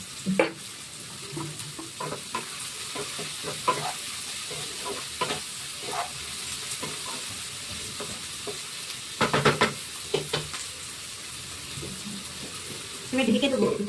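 Onions frying in a pan with chilli and salt added, a steady soft sizzle broken by scraping stirs and a few sharper clatters.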